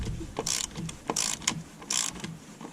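Ratchet wrench tightening cylinder head bolts on a 2011-2014 Dodge Durango engine, a few quick bursts of close, fairly quiet clicking separated by short pauses.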